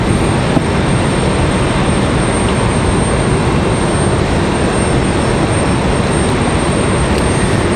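A small, slow airplane on final approach at Raleigh-Durham airport in stormy weather makes a steady, loud, continuous roar with no breaks.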